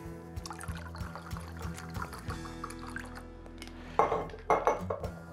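Four parts plain water and two parts white vinegar pour together, with soft liquid trickling and splashing under steady background hum, plus a couple of louder glassy clinks and splashes near the end.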